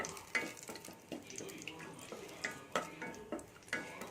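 Garlic pieces and chilli sizzling in groundnut oil, a soft steady crackle with scattered sharp pops and light stirring clinks, fairly quiet and close.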